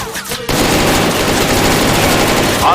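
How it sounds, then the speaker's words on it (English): Dense, sustained automatic gunfire from the video game Infrared, loud and continuous bursts of rapid shots with little gap, a short burst of other noise at the start. "Who the fuck is shooting at me?"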